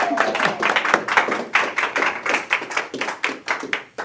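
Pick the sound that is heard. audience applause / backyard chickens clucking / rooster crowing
audience applause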